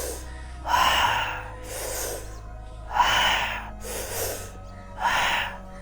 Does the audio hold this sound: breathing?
yes